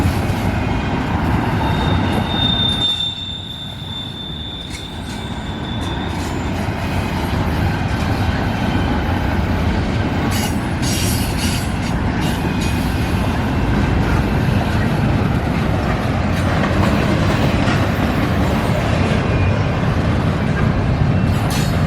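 A CN freight train led by two SD75I locomotives rolls past near Battle Creek, Michigan, producing a loud, continuous rumble of wheels and cars with brief squeals and clatter throughout.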